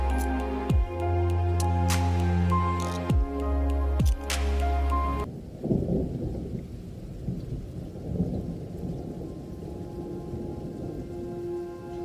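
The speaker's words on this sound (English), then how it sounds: "We experienced heavy rain as we were approaching the world's wettest place," Heavy rain on the road approaching Cherrapunji in Meghalaya. A steady tonal hum with a few low thumps cuts off, then a dense, constant hiss of pouring rain with deep rumbles follows, close and loud, with no voices.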